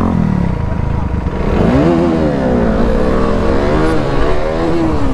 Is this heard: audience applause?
no